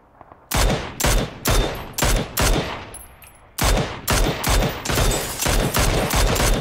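Repeated loud gunfire bursts in PUBG, evenly spaced sharp volleys of shots in steady rhythm with a brief pause midway, close and dominant without talk.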